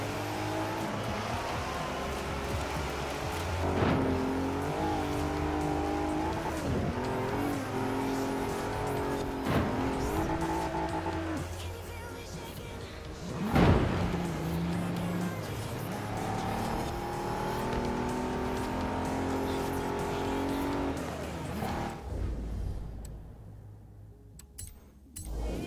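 Race cars scream through a sprint race in Forza Horizon 4, engines revving and shifting with tire squeal and a sharp impact midway, before the roar thins out near the end.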